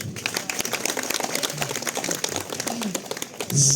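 Audience at a comedy and dance show in a Truskavets pump room claps steadily, a dense, continuous patter of many hands under some crowd noise.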